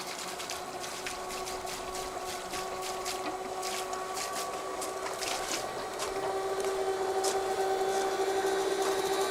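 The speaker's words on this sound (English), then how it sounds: "I'll turn this off and see how it sounds when it runs dry." FlowJet RV waste macerator pump hooked up at an RV and running dry near the end of a tank, giving a steady whirring hum with a high whine and faint rattling ticks, unchanged for the whole stretch.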